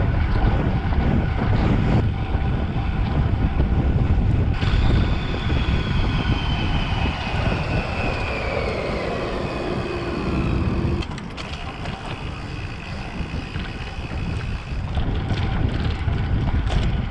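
Wind roars steadily against the microphone of a bicycle riding near 40 km/h with a tailwind, a loud, unbroken rush with brief dips and swells and no voices.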